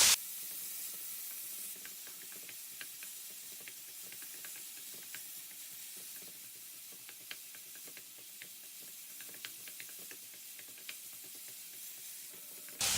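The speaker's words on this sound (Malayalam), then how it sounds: "ടൊമാറ്റോസ് നന്നായിട്ട് നമുക്ക് സോട്ട് ചെയ്തെടുക്കാം." Chopped tomatoes with onions sauté in an oily pan for tomato chutney, giving a steady, soft sizzling hiss with faint scattered crackles and pops throughout and no talking.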